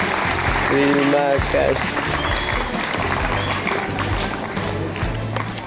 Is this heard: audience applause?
yes